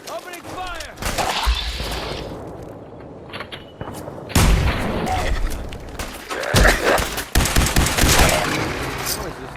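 Loud combat gunfire in Fallout 4, with heavy repeated bursts of automatic fire and sharp cracks broken by short pauses, alongside in-game chatter and shouting.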